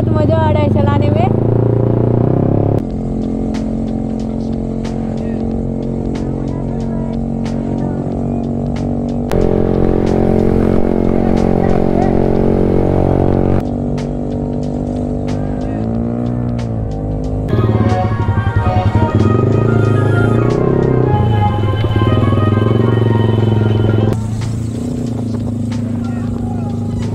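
A motorcycle engine hums steadily while being ridden, loud and close with shifts in pitch as the throttle changes, plus clatter and some background voices.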